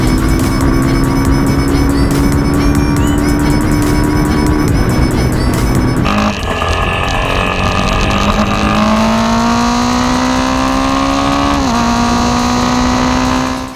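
A Yamaha FZ25 motorcycle engine accelerating: a loud, steady drone climbing in pitch through the gears, with a brief dip at a shift midway and a later shift, heard continuously under wind rush.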